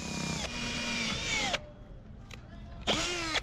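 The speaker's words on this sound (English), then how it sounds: "the drill went much more easily through the simple fiberglass of the deck" A power drill bores holes through a boat's fiberglass deck, whining loudly with falling pitch as it bites, then stopping briefly before spinning up again for another short burst.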